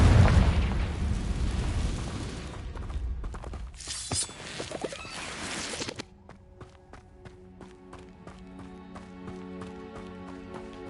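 A fiery Confringo spell explosion in Hogwarts Legacy, a heavy rumbling blast with crackling debris that fades after a few seconds into softer game background sounds.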